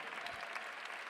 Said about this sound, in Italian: E grazie a Carlo allora, un grande applauso a Carlo.